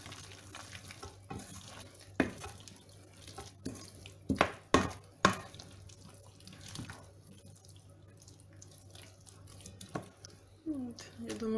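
A spoon stirs a thick zucchini fritter batter in a bowl, with soft wet scrapes and several sharp clinks against the side, close up.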